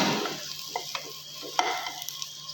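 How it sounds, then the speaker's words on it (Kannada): Turmeric frying in oil in a pan for paneer dal tadka, a soft steady sizzle with a few light clinks and scrapes of a spoon stirring, quiet and close. "ಇವಾಗ ಅರಿಶಿನ ಹಾಕಿದ್ವಿ. ಇದು ಸ್ವಲ್ಪ ರೋಸ್ಟ್ ಆದಮೇಲೆ"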